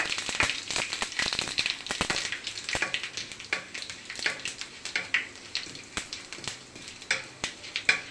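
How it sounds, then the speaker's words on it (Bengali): Panch phoron and two dried chillies crackle in hot oil for mango pickle, a busy steady sizzle with sharp pops and spits scattered throughout, close and fairly loud, with no voices. "পাঁচফোড়ন ভাজা হয়ে গিয়েছে।"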